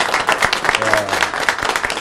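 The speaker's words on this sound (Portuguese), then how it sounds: "Palmas para o Augusto" Applause for a guest at a press conference, a small crowd clapping briskly with distinct individual claps, fairly close and steady across the short stretch, with a murmur of voices underneath.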